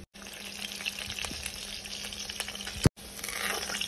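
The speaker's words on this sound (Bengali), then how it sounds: "আলুটাকে এপিট এপিট করে লাল লাল করে ভেজে নেব।" Cut potatoes fry in oil for mutton curry, giving a soft, continuous crackling sizzle that is broken by one sharp knock and a brief gap, with no voices.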